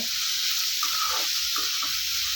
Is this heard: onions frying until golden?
yes